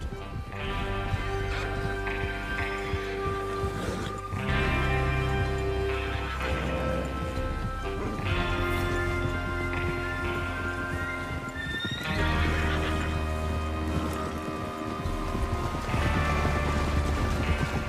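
Horses whinnying and neighing repeatedly over steady clip-clopping hooves and a rumbling backdrop, loud and close, in the video game Red Dead Redemption 2.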